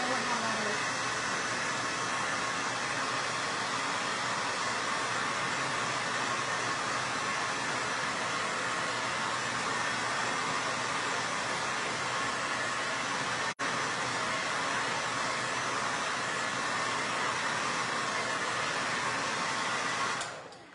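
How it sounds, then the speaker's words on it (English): A hair dryer blows steadily at close range over a chalkboard, a loud, even rushing roar that runs unbroken for about twenty seconds before cutting off. "We're going to help it out a little bit with the blow dryer, so I'm going to make a little bit of noise"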